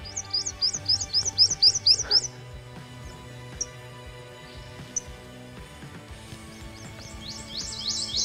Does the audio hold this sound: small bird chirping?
yes